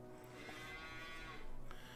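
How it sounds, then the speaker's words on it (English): Cattle mooing in a farming video game on a marsh map, a continuous low drawn-out moo with a slight swell near the end, steady and moderately quiet. "So these cows are now all fed and strawed."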